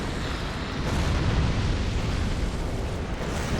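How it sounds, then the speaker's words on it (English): A detonating head in Dark Souls II: Scholar of the First Sin, heard as a loud sustained rumbling blast that holds steady throughout, with no talking. "watch out for the head. It detonates."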